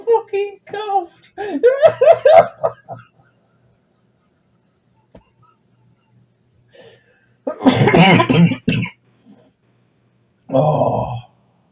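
A man's coughing fit comes in several raspy, breathy bursts mixed with laughter and snickering, separated by quiet gaps, recorded close.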